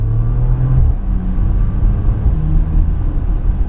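A Porsche Macan Turbo accelerating hard, a steady, loud engine drone with a whooshing rush that holds for several seconds, heard from inside the car with no talking.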